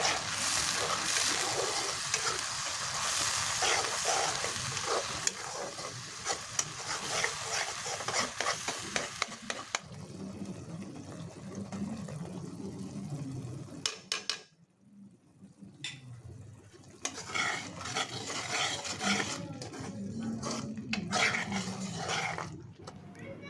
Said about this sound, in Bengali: মশলাটা দিয়ে মিডিয়াম হিটে কিছুক্ষণ কষিয়ে নিব যতক্ষণ না তেলটা উপরে চলে আসছে